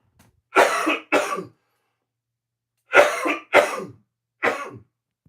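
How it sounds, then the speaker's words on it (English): A person coughs in two quick pairs of harsh, close coughs, then a final single cough, with silence between the bursts. "And I started coughing again."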